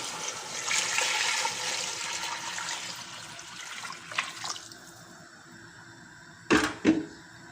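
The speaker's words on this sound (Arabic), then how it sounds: "المهم دحين نحط عليه موية خلاص" Water pours into a cooking pot over chicken for a Saudi kabsa, making a bright, splashing gush that is loudest at the start and tapers off, followed by a couple of short clanks near the end.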